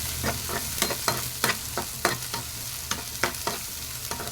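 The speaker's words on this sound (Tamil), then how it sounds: "வெங்காயத்தை நல்லா வதக்கி விட்டுடலாங்க" Onions and curry leaves sauté in oil in a kadai, a steady close sizzle broken by regular scraping strokes of a spatula stirring the pan, roughly every half second, with no voices.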